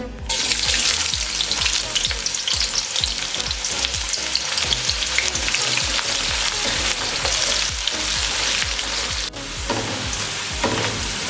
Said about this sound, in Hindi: अब इसमें प्याज डालेंगे और इसको गोल्डन होने तक फ्राई कर लेंगे।